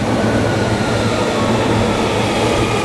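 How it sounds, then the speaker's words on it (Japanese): A Hankyu Kyoto Line train rolls into Katsura station during the morning rush, a continuous loud rumble of wheels and motors filling the platform with no voices over it. "まもなく京都河原町方面に向かう電車が到着します"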